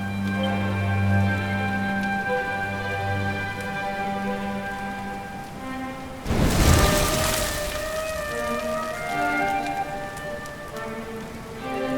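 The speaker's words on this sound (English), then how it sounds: "Looks like the rain's dying down." Steady rain pours in the video game Dragon Quest XI, a dense patter on surfaces beneath sustained musical tones, swelling into a louder rushing burst midway before settling back to a softer drizzle.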